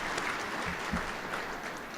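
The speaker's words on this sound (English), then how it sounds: "give a round of applause to both those folks" Audience applause at a DNR roundtable plenary session, a sustained wash of clapping from a large hall that holds steady for the whole stretch, with a couple of low thumps partway through.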